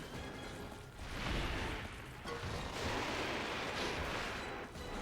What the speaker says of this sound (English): That triple explosion thing is really annoying.